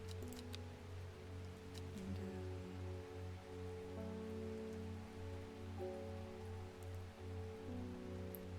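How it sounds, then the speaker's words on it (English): Steady video game rain patters on a surface throughout, a constant wash of drops with a faint low hum underneath and no talking. "The game has rain sounds."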